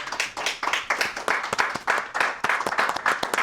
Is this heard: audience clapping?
yes